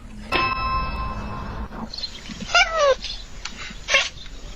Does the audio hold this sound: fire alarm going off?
no